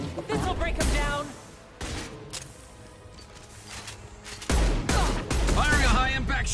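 Gunfire in Mass Effect 2 crackles in bursts of rapid shots between stretches of combat shouting, loud and close, with voices talking over parts of the firing.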